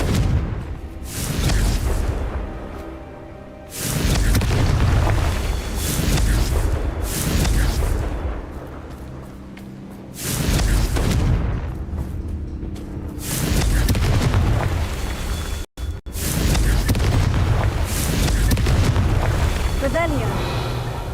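Confringo blasting curse explosions in Hogwarts Legacy, several loud booming blasts in a row with rumbling tails between them, set among game sounds.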